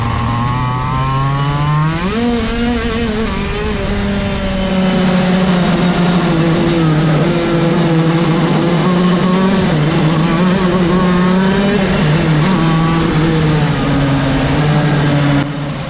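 A KZ shifter kart engine screams down the straight at high revs, its rising and falling harmonic whine loud and close throughout as it climbs through the gears, with no voices over it.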